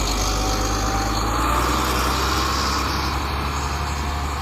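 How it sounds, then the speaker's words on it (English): Trucks carrying concrete at a coastal road construction site produce a steady, loud engine rumble that runs without a break throughout. "As you can hear, we've got trucks in the background."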